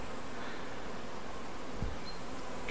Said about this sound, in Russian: Пчелки летают.